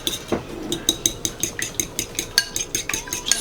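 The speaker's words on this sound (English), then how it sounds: "This is a jumbo egg, and I'm gonna just whisk this real quick." A jumbo egg whisked quickly in a bowl for blueberry raspberry pancake batter, a fast regular series of light clinking taps, close and alone.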